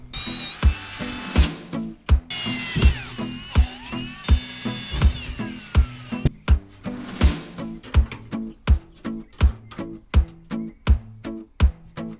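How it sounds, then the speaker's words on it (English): A power drill bores into wood decking outdoors, with several loud whirring runs at first, then a long series of regular knocking thumps. "then just drill into the wood decking a little bit"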